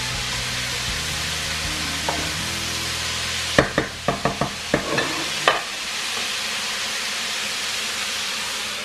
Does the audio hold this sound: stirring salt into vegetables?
yes